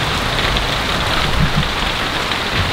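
Steady heavy rain pours down around a roadside shelter in northern Thailand, a dense loud continuous hiss with no letup and no voices.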